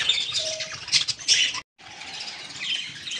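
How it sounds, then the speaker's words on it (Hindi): Pet parrots in a cage chirp and squawk in quick, close bursts, with a brief gap of silence before the lively chatter resumes. "ये देखें ये हमारे तोते आ गए हैं पार्टी करने के लिए"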